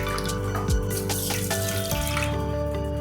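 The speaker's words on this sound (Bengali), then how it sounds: "এইবার আমি সর্ষেগুলোতে জল দিয়ে আমি একটুখানি করে ভিজিয়ে রাখবো।" Water pours steadily from a tap or jug onto mustard seeds in a small vessel to soak them, a close, continuous splashing stream that rises slightly in pitch as it fills.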